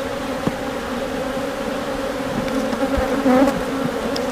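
A honeybee colony buzzes steadily during a hive inspection after a swarm and re-queening, a dense, even drone with a slight swell near the end and no voices.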